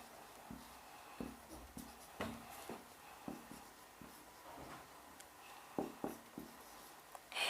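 A pen scratches out letters in blocks on paper, in short separate strokes with small pauses between, close and fairly quiet with no talking.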